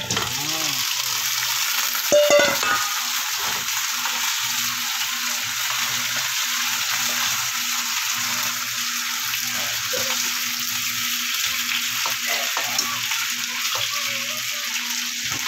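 Steady crackling sizzle of pork leg frying in hot oil, continuous and close, with a few brief clinks and bursts of spatter.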